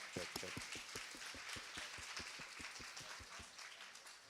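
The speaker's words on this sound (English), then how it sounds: "we can give them a very first of many applause that they're going to receive today" A small group claps steadily throughout, a sparse, even patter of hands with a faint murmur of voices behind.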